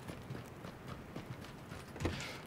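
Nearby footsteps in the PUBG battle royale shooter during a duo match: a quiet, uneven run of soft thudding steps over faint background ambience, ending in one slightly louder step, with no talking.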